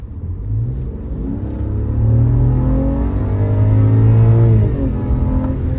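A BMW F10 528i sedan with the N52 straight-six engine accelerates from inside the cabin, a smooth rising drone whose pitch climbs steadily through a gear, loud and close, with no talk.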